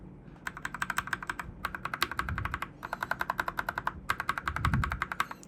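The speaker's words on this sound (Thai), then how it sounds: "ผมลองลูปประมาณ 7 ปุ่มแล้วมั้งฟังนะครับ อันนี้เป็นมิลกี้เยลโล่" Steady typing up close on a Royal Kludge RK61 mechanical keyboard with lubed, filmed Milky Yellow switches, even thocky keystrokes in several bursts separated by short pauses, with a couple of low thumps.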